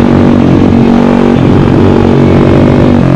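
A brand-new MRF 140RC pit bike still in break-in runs loud and close throughout, its steady engine drone shifting slightly in pitch as the throttle moves, with no talk over it.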